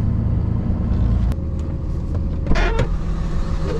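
An old pickup with a 5.9 engine and about 150,000 miles, idling steadily alongside an overloaded dump trailer; a continuous low, even rumble runs throughout with a brief louder mechanical clunk near the end, and no talk.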